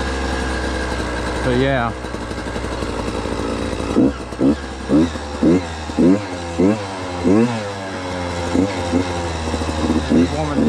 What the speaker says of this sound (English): Just warming the bike up a little bit.